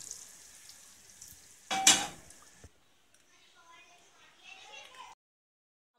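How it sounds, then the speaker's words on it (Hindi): A sharp, loud burst of sizzling as spices for a tempering hit hot oil for chana dal gosht, crackling for about a second and fading, followed by quieter kitchen clatter. "और ये लग गया हमारा तड़का।"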